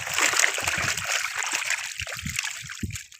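Live rohu fish released into a small dinghy, with a few brief watery splashes and sloshes under a steady hiss of outdoor background noise, close by.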